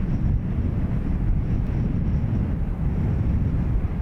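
A Qatar Amiri Airbus A330 VIP jet passes at Dublin Airport, a steady, loud broadband engine roar with rumbling low end that holds evenly throughout, with no voices over it.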